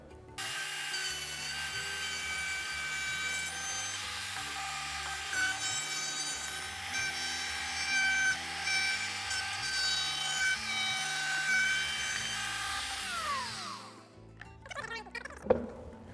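A plunge router flattens an end grain wooden cutting board, a loud sustained high whine with rough cutting noise as it moves across the wood, then spinning down near the end.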